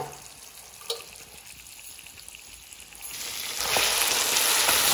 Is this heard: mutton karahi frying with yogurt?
yes